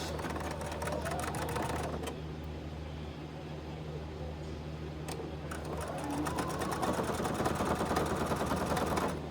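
A sewing machine back-stitching while making a small monster-shaped case, running in rapid mechanical bursts with brief pauses between them and staying steadily loud throughout.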